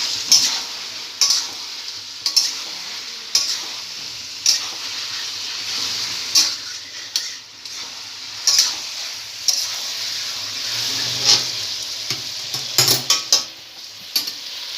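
Chicken pieces fry in a pan for chili chicken, giving a steady close sizzle broken by repeated scraping, clattering stirs of a utensil against the pan, with no talking.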